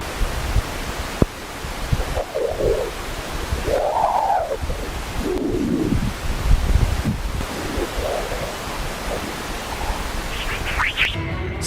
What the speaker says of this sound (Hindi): अभी जो आपने चहचहाट की ऑडियो सुनी, वो सोलर विंड से निकलने वाली एक खास डिस्पर्सिव वेव्स की निकलने वाली आवाज है।